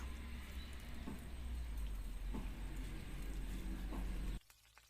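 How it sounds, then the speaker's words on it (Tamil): Fish frying in hot oil, a steady dense sizzle and crackle with faint soft pops, fairly close, cutting off sharply near the end to a quieter background. "மீன் நல்லா ஃப்ரை ஆயிடுச்சு."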